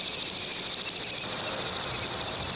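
Seventeen-year periodical cicadas drone in a dense, continuous, pulsing chorus, loud and close, with no other sounds.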